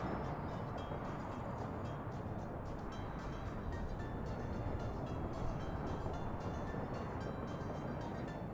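Train rolling past in the Soviet-era city-building game Workers & Resources: Soviet Republic, a steady dense rumble holding at an even level throughout, with faint rhythmic clicks riding on top and no talk.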